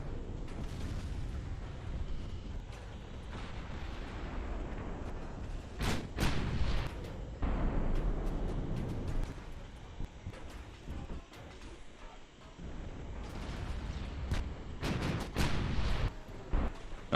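Torpedo spread striking a warship in the naval combat game Ultimate Admiral: Dreadnoughts, with several heavy booming explosions in scattered bursts over a continuous low battle rumble.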